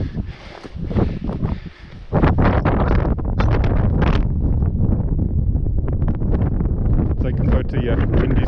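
Gusting wind batters the microphone while climbing Sleeping Beauty. It starts as a lighter flutter, then surges into loud, continuous, roaring buffets that keep pulsing to the end.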